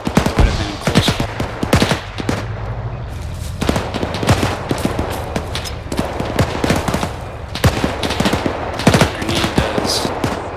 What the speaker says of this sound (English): Got a 50 cal here.